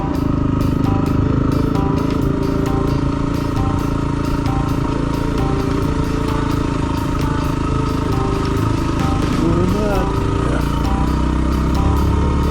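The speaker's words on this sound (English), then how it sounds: "On the WR250 going up east of Meeker." A Yamaha WR250R dual-sport motorcycle rides uphill on a route east of Meeker, its engine droning loud and steady throughout, with wind rush and small shifts in revs.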